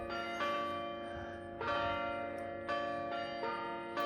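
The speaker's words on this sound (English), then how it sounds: "Look at all kinds of bells." Church bells peal in several loud, clanging strikes, each one ringing out and slowly decaying before the next arrives, heard alone without talking.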